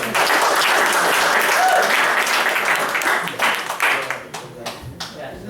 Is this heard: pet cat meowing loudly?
no